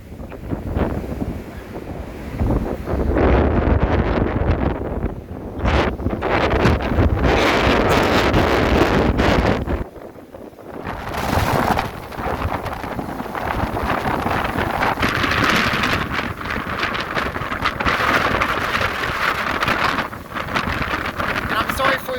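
A brutal wind storm roars and buffets the microphone in loud, continuous gusts, with heavy rumbling that briefly drops around the middle before surging again, and a voice talking underneath.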